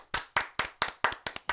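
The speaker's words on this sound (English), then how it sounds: "Cindy, give me a round of applause" Seven sharp, evenly spaced hand claps from a single person close by, coming at a brisk steady rhythm in the studio of a morning radio show, with no talk over them.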